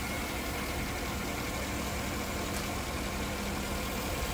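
A 6.2-liter V8 in a 2009 Cadillac Escalade AWD idles with a smooth, steady broadband hum that stays constant and unbroken, with no voices.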